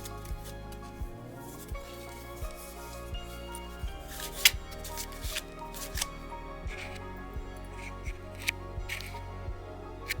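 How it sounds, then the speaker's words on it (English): A vintage Epinal card deck being shuffled, with repeated soft riffling and flicking of flexible yet sturdy cards, close and fairly quiet, with irregular small clicks and no speech. "Shuffle. It's flexible, but still sturdy."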